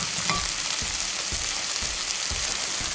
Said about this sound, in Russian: Здесь капустка кипит, готовится.